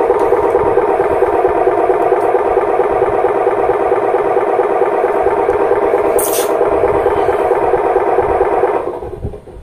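A handmade RC miniature Hino 500 truck's sound module idles with a steady, even diesel-like rumble, close and loud, then cuts out abruptly near the end as it shuts off by itself.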